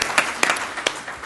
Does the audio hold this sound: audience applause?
yes